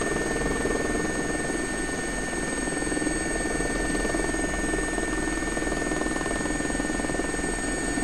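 An SA342 Gazelle helicopter in a flight simulator game gives a loud, constant rotor and turbine roar with a steady whine, unbroken and close throughout, with no talking.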